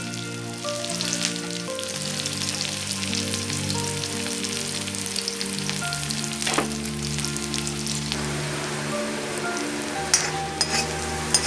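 Garlic and chilli fry in oil for a fenugreek-leaf tadka, a loud continuous close sizzle like steady rain, over a sustained tonal hum in the background.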